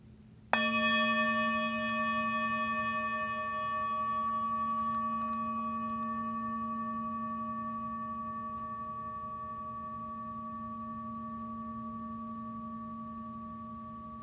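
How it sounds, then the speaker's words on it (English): A single meditation bell struck once at the start of a Buddhist dharma talk session, a clear sustained ring with bright overtones that slowly fades over many seconds in a quiet room. "I'll sound the meditation bell"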